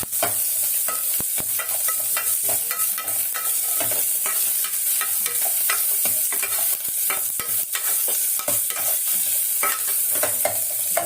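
Small shallots sautéing in a pan with green chilli, dried red chillies and curry leaves, a continuous close sizzle broken by frequent scraping and tapping of a spoon.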